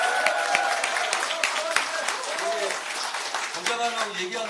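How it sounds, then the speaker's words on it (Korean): An audience at a Korean political party gathering applauds in welcome of a party leader with dense, steady clapping. It fills a crowded room and continues throughout, with voices mixed in. "이 방이 떠나갈 정도로 박수를 한번 환영의 박수 좀 쳐주시기 바랍니다"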